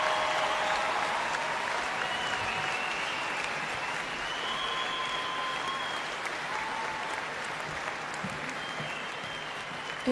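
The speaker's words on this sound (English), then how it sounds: "Can I please get another round of applause for the orchestra?" A concert audience at the Royal Hall applauds the orchestra during a live show, dense sustained clapping filling the hall, with faint cheers and whistles rising through it and gradually easing off.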